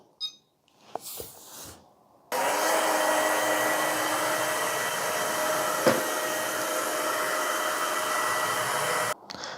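ILIFE V3s Pro robot vacuum runs on a hardwood floor, giving a steady whirring, hissy drone that starts abruptly after a few faint knocks and carries on at an even level for about seven seconds before cutting off.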